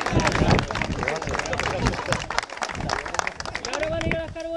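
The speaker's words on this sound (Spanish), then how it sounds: "Un aplauso para todos." A group on a guided walk at Taborno–Chinamada claps together in brief scattered applause, mixed with voices and lively chatter close by.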